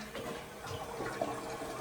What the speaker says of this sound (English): Toilet does flush.